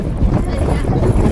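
Strong wind buffets the microphone on the road to Nadabet, producing a loud, constant low roar of gusts throughout, with a voice talking under it.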